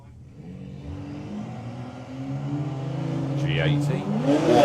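Drag race cars, a BMW G80 and a Toyota Supra, launch at a street car drag racing event, engines rising in a swelling rev that grows louder toward the end, with a voice speaking over it.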